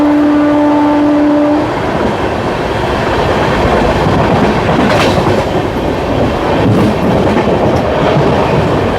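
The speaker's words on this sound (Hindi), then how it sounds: "और अपनी अमृत भारत भी ताबड़तोड़ एक्सीलरेशन पे एक्सीलरेशन किए जा रही है।" Amrit Bharat Express hauled by a WAP 7 electric locomotive, picking up speed: a loud, steady rumble of wheels on rails with rattling carriages and faint clickety-clack, a brief tonal hum fading early, no voices.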